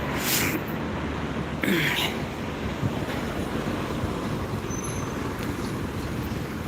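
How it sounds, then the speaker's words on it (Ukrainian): Strong wind buffets the microphone in a constant roar, with gusty swells and a faint background rush. "Вітер."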